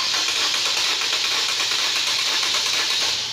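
A 2014 Nissan Versa with a crank-no-start fault turning over on the starter, a steady loud hissing whir with a rapid pulsing rhythm, close up and continuous for a few seconds.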